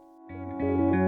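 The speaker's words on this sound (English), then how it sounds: "We'll use that ominous spring reverb sound from my boom stand in the studio" A studio microphone boom stand rings with an ominous spring-reverb sound, a metallic, sustained tone that swells louder and shimmers over about a second.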